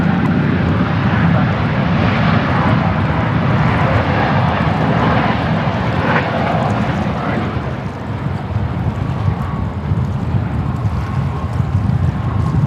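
An aircraft departs runway 34 at Sydney Airport, a loud, continuous engine roar that holds steady and dominates, with wind rumble mixed in and no talk.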